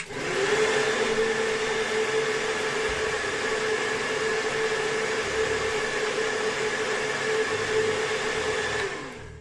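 A hair dryer blows steadily at close range while styling a mustache, a loud, even whir with a high tonal hum that runs unbroken before cutting off at the end.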